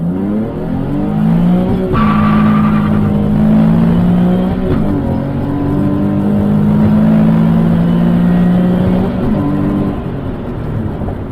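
A stock Nissan 370Z accelerates hard through the gears with no-lift shifts, a loud, close engine drone rising in pitch, with quick breaks where the revs drop at each shift before pulling again.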